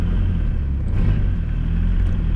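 Diesel-swapped TDI Mk2 Jetta with boost and no muffler at full throttle, a loud, close, steady low engine drone and exhaust rumble heard from inside the car.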